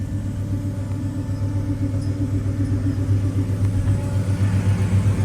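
A 1970 Pontiac GTO Judge tribute with a 400 engine rated at 335 hp cruises down the road, a steady, smooth low engine rumble heard from inside, with no voices.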